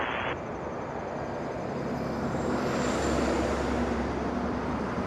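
A Boeing 777 rolls for takeoff at Toronto airport, a steady, distant jet engine roar that swells slightly midway, broad and continuous with no voices.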